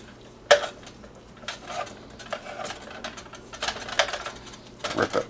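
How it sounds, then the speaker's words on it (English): A spatula pressing and chopping food apart in a pan, a handful of sharp scraping clacks spread irregularly over several seconds, fairly close with quiet gaps between strikes. "I will just hold it down with the spatula and split it all up"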